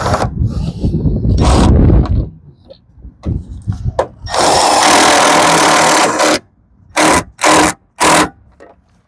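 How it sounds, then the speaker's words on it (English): Bursts of a power tool driving 3/8 inch self-tapping nuts into a 2014 Ram ProMaster van, loud and close, with a long whirring run followed by three short trigger pulls and brief pauses between. "let's go ahead and drive these self-tapping nuts in here. It's 3/8 inch."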